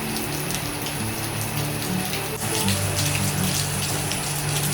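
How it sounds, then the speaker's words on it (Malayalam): Rain falling steadily, a dense continuous wash of water noise like a heavy downpour or runoff close by, with a low background hum and no talking. "ആദ്യമായിട്ട് മഴ ഡയറക്റ്റ് ആയിട്ട് കാണണം കേട്ടോ."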